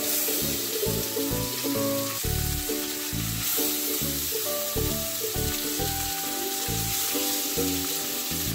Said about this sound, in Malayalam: നമ്മൾ എണ്ണ ചൂടായിട്ടുണ്ട്, നമ്മൾ മുളക് തേച്ച് വെച്ച കൽമാസ് ഓരോന്നിട്ട് നമുക്കൊന്ന് പൊടിച്ചെടുക്കാം